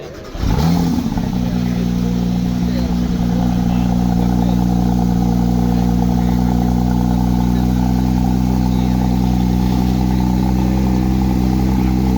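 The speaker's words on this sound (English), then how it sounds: "Let's hear some 911 Speedster exhaust sounds." A Porsche 911 Speedster engine idles steadily and loudly with a deep, constant exhaust rumble throughout, close by.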